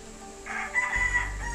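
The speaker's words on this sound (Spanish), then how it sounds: "Pues aquí les dejo este gallo" A black-red rooster with a serrated comb crows once nearby, a loud, strained cock-a-doodle-doo that holds and fades, with a low hum underneath.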